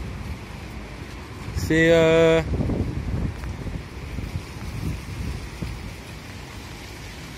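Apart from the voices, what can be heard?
storm wind blowing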